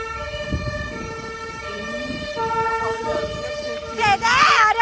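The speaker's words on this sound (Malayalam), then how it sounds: "ആംബുലൻസ് പോകുന്നുണ്ടോ" An ambulance siren wails in a steady rising and falling tone, swelling louder toward the end as it nears, while someone talks over it and street traffic rumbles underneath.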